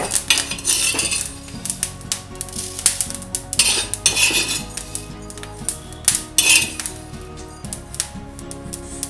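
Roasted fennel seeds are scraped and tipped from a hot pan onto a plate, producing busy metallic clinks, spoon scrapes and rattling bursts over a light sizzle, close and fairly loud, with no speech.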